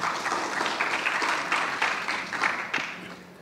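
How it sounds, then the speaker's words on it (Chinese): An audience at a PyCon Taiwan 2019 talk applauds to welcome a speaker, a steady wash of moderate clapping filling the room and easing off near the end. "那我们掌声欢迎他"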